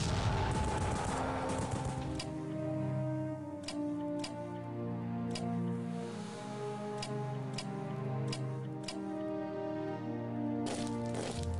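Battle gunfire from an attack in the World War I strategy game Strategic Command, heard as scattered sharp shots and bursts ringing out at intervals over a steady, loud orchestral music bed.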